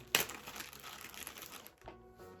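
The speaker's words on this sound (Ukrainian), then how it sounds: "далі в нас тут такий просто пакет зіп з мочалками" A plastic zip bag holding sponges is handled, giving a burst of crinkling and rustling that starts sharply, continues unevenly for about a second and a half, then fades into quieter handling.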